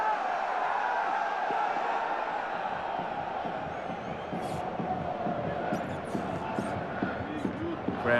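A football stadium crowd of about 15,000 at the NAC Stadium in a Dutch league match sends up a steady, dense roar that runs through the whole stretch. A commentator talks over it.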